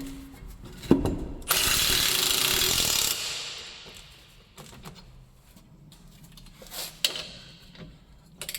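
Impact wrench with a low battery removing a campervan's strut bolts, a loud rattling hammering burst of about two seconds followed by fainter clanks and short mechanical clicks nearby.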